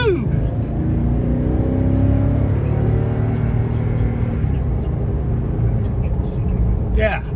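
Toyota Tundra pickup fitted with a TRD PRO intake airflow accelerator, its engine droning steadily and rising in pitch as it accelerates, heard from inside the cab with a brief voice near the end.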